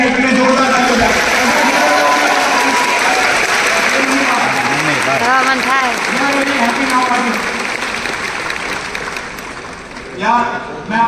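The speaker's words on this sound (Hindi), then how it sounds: "प्लीज जोरदार तालियों का मेरी फैमिली के लिए।" A crowd at a success-day gathering in Delhi applauds loudly and steadily, with a voice speaking over the clapping, which fades slightly toward the end before a brief swell.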